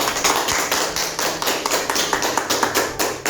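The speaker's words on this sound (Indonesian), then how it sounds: "Silakan beri aplaus untuk Ananta." A classroom applauding a student named Ananta: a short burst of rapid, close hand claps from a small group, rhythmic and fairly loud, with no talking.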